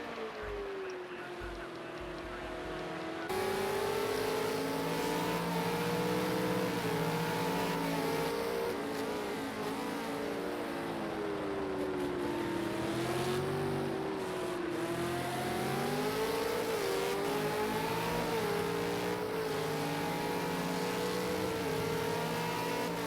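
V8 Supercars racing at Silverstone in a racing video game: a loud, continuous engine drone with shifting pitch as the cars accelerate and rev, sustained near throughout after a brief quieter start, with light commentary.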